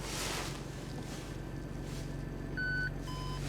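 Just after reverse gear is selected, a car's reversing warning sounds as a few short electronic beeps over a steady low engine rumble and cabin hum.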